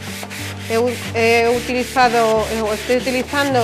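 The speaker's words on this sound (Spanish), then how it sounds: "Lo que vamos a hacer es lijarla. Siempre al sentido de la veta." Very fine-grit sandpaper rubbed along the grain of a plain, heavily grained wooden tray, giving a steady series of rhythmic scratchy strokes under background music and someone speaking.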